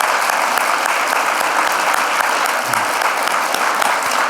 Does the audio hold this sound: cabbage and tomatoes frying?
no